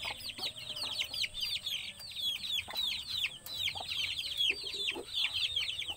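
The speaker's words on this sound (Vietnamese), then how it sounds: "Nhõng ghê luôn, gà mái này nhõng lắm." A hen in an old coop clucks over and over in quick, uneven bursts, close and steady, with faint farmyard noise underneath.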